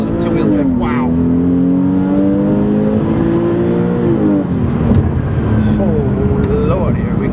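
A Porsche 911 997 Carrera S pulls hard in first gear, its engine note climbing steadily in pitch, dipping briefly and rising again, loud and close from inside the car, with a voice talking over it.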